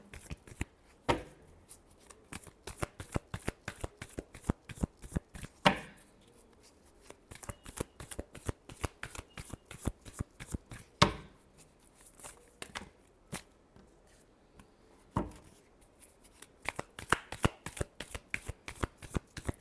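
Tarot cards are shuffled by hand over almost twenty seconds, making dense, crisp riffling and slapping bursts with sharper thuds at intervals, close and fairly quiet with no talk.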